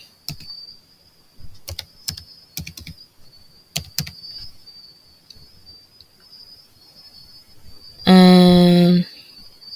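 Keys tapped on a computer keyboard while a Cameroonian mobile money number is entered for payment, scattered clicks over a steady high hiss, ending in a loud sustained tonal burst near the end.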